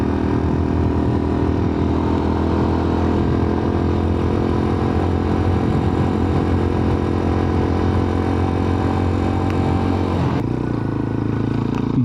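A CFMOTO Papio SS motorcycle climbs hills on a bumpy paved road with a steady, droning engine note close by, and near the end the tone drops briefly as the engine shifts.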